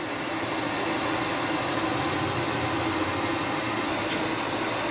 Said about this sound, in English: That's the exhaust fan turning on,